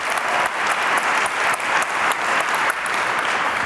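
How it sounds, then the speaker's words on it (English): An audience at a forum applauds the panelists with steady, dense clapping that holds even in level throughout, moderately loud and heard from within the hall. "please include also the extra applause that I suppressed at the beginning for all our panelists"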